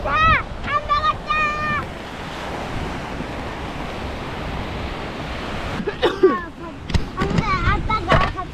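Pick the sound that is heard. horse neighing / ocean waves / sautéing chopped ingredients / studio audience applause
ocean waves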